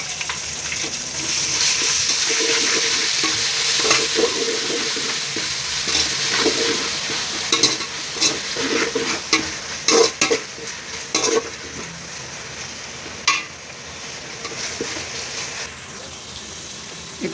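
Onions with ginger garlic paste sauté in a pan for vegetable biryani, a steady close sizzle broken by repeated scraping stir strokes and a few sharp utensil knocks, with no talking.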